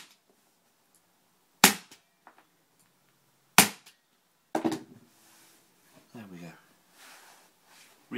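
An Arrow multi tool staple gun drives 10mm staples into upholstery fabric on a cushion: two sharp, loud snaps about two seconds apart, followed by talking.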